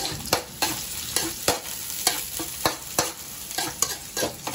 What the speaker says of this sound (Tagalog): Sangayin mo yung bawang.